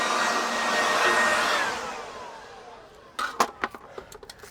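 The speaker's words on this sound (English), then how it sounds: "use my leaf blower to kind of get off the loose stuff" A leaf blower blasting loose dust off RV stairs: a loud, steady rushing roar that slowly fades out, followed by several sharp scraping knocks and clatters near the end.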